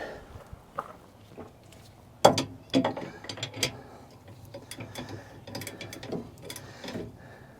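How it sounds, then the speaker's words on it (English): A wrench runs a bolt into a Bobcat axle sprocket during chain case repair, giving close, irregular metallic clicks and ratcheting taps in short bursts with brief pauses between. "And now we're going to run it the rest of the way in with a wrench."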